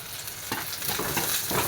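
Cumin seeds sizzle in hot oil for a fish curry, a steady close crackle with a few brighter bursts of spattering, no voices.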